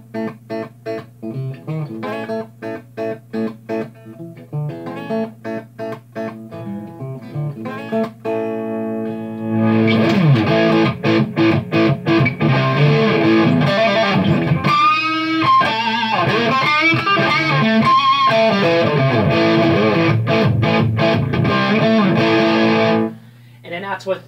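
An electric guitar with its volume rolled back for a clean tone plays through a Marshall Vintage Modern 2466 amp: plucked notes and chords first, then loud, sustained strummed passages that stop abruptly near the end.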